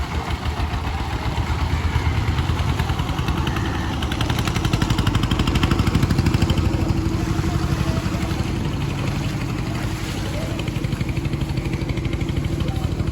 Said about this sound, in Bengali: আমাদের ভোলার সব মাছ এরকম ছোট ছোট ট্রলারে আসে।